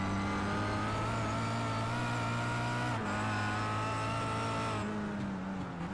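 Touring race cars with 2-litre turbo engines drone past, giving a loud, continuous raspy engine note that shifts pitch near the middle and again near the end, with no voices over it.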